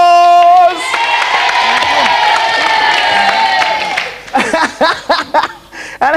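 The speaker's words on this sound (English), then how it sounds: "Please give him a round of applause!" A television studio audience on a game show bursts into applause and cheering with whoops, sustained and loud for several seconds, then breaks into scattered laughter and chatter as it settles.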